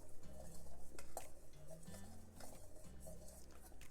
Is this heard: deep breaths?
no